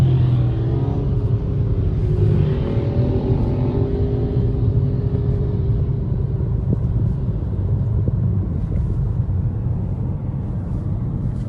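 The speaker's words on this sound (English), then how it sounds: "Motorcycle." A motorcycle passes on a road during a drive, its engine rumble rising and fading under steady car and wind noise inside a moving vehicle.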